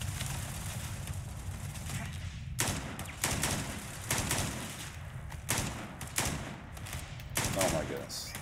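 In the Starfield video game, an unmodified gun fires in several bursts of rapid shots, loud and close, with short pauses between volleys over a steady game background.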